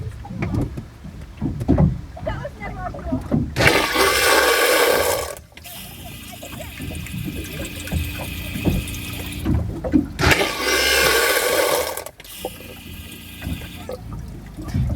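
An electric porcelain flush head aboard a Cobalt 250 boat gives two short flushes, each a loud rush of water and pump lasting about two seconds, with quieter background noise between them.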